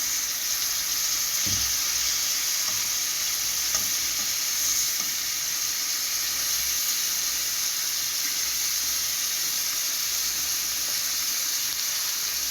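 Thin beef slices sear in a hot pan after being turned over. A steady, moderately loud sizzle and hiss continues throughout, with one soft knock near the start.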